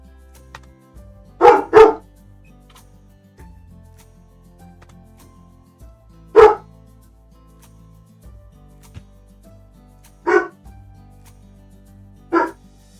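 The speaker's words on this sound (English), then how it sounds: "Are you barking at the neighbors again?" A dog barks at the neighbors in short, loud, close bursts: a quick double bark, a single bark a few seconds later, then two more sharp barks spaced apart, with quiet gaps in between.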